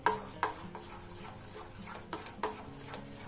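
A spoon stirs a semolina and sugar mixture for malpua in a pot, giving faint scraping and a few sharp clinks against the metal at a quiet, unhurried pace.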